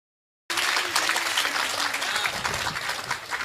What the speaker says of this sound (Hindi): जोरदार तालियों से आमंत्रण दें।